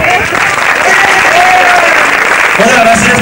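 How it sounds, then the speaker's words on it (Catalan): Loud, sustained audience applause fills a crowded hall at a Catalan-language family show, steady and dense throughout with some voices rising over it toward the end. "Moltes gràcies per aquests aplaudiments"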